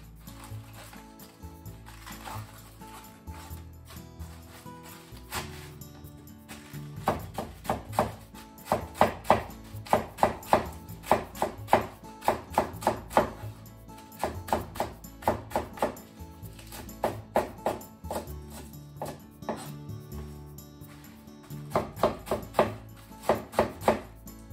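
A kitchen knife chops cored cabbage into strips on a board: a fast, steady run of crisp, close knocks that comes in bursts with brief pauses, with no voices.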